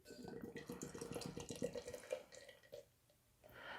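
Black Currant Raspberry Melted Sno Cone beer from Southern Grist Brewing Company is poured into a glass, a splashing, gurgling stream close by that tapers off toward the end.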